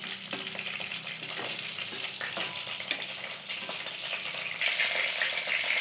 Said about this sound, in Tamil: எண்ணெயில் இப்படி நல்லா ஃப்ரை பண்ணிக்கலாம்